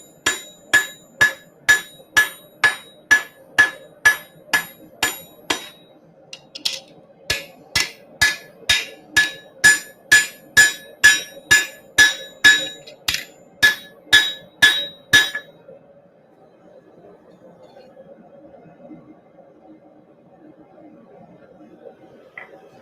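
Steady hammer blows ring out on a large steel anvil as a knife blade is forged and narrowed, some two dozen loud metallic strikes in even rhythm that stop partway, leaving a quiet hum.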